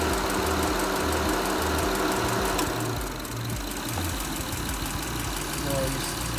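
A Honda Odyssey engine runs steadily while its AC compressor is switched back on, giving a constant, close, loud engine drone whose tone changes slightly partway through, with speech over it.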